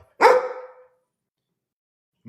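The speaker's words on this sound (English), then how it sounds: "This is Ozzy the sheepdog calling out all dogs, all sheepdog for all the sheep in the world" A sheepdog gives a single loud, sharp bark close by, followed by silence and a faint noise at the very end.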